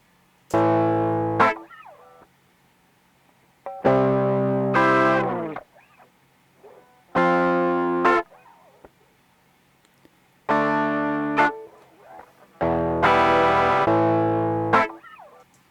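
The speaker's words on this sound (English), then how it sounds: "In Ableton, this effect is called pedal, and you can choose an array of drives or an array of distortion types" Sustained notes run through Ableton's Pedal plugin with overdrive distortion, five separate buzzy, harmonically rich tones of about two seconds each, split by short silences and played alone.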